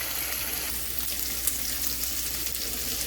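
Steak frying in a pan gives a steady, dense sizzle with close, even crackle and no talk, holding level throughout.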